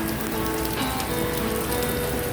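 Heavy rain pours steadily during a holiday bike ride, a dense, unbroken hiss of drops striking surfaces all around, with no voices.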